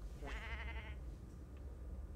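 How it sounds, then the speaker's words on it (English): A goat or sheep bleats once in the dungeon crawler game Devil Spire, a single wavering, quavering cry of about a second over a low steady background rumble. "Why am I hearing a goat?"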